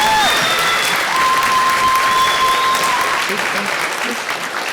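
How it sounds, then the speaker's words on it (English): Audience applause for a panel at a celebration and reunion event, steady and sustained broadband clapping filling the room for several seconds, with a faint tone and some voices underneath. "One more round of applause for those panelists."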